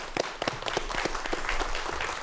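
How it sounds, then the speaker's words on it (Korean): Audience at a televised science lecture applauding to welcome a speaker, a moderate, continuous patter of many hands with some individual claps audible, fairly close. "큰 박수로 다시 한번 청해보도록 하겠습니다"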